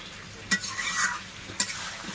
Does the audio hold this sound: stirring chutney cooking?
yes